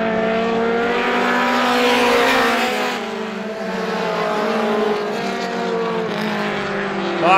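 Race cars roar around Star Speedway during Roadrunner class heats, loud engines droning and shifting pitch continuously as the pack circles the track.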